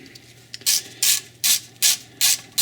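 Ratchet clicking in five quick bursts while undoing a small bolt on the rear brake disc of a car with an electronic parking brake; the crisp, close, loud clicks come in a steady rhythm with quiet pauses between them.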